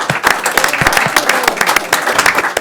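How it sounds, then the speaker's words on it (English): A round of applause from attendees at a board of trustees meeting, steady dense clapping with sharp individual claps standing out, fairly close and filling the whole short stretch. "One more round of applause."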